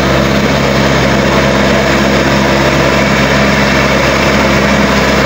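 A TYM rotary tiller engine runs continuously, a loud, dense, unbroken mechanical roar close to the microphone with no pauses or speech.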